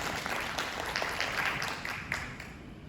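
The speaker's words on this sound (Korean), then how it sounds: "여러분 박수로 맞이해 주시기 바랍니다" An audience at a culture forum applauds to welcome a speaker, with a dense, steady wash of clapping from many hands that carries on throughout at moderate, slightly distant level.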